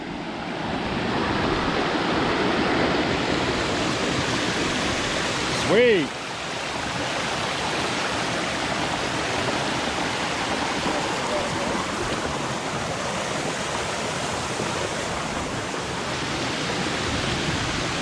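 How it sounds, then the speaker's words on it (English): Steady rushing water from a small waterfall stream near Coldwater Lake, Mount St. Helens, broad and constant, with a brief voice and a short whistling sound partway through. "looks like we're coming up on a little water feature here"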